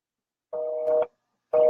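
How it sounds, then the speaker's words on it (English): A telephone busy signal sounds as a steady tone in two clear beeps, one long and one starting again after a short gap. Nothing else is heard around it. "His phone is busy right now."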